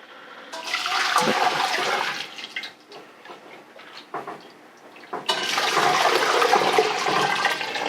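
Shiitake mushroom soaking water is poured into a pot for Korean seaweed soup with beef, making a loud, close splashing rush in two long bursts separated by a quieter pause of small trickles and clunks.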